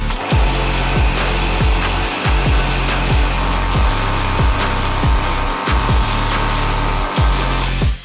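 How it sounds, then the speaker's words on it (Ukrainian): A Dnipro-M AC-24NL oil-free air compressor runs loud and steady, its motor hum overlaid by a rapid repeating pumping pulse throughout, with no talk. "Увімкнув шумомір і запустимо наш компресор."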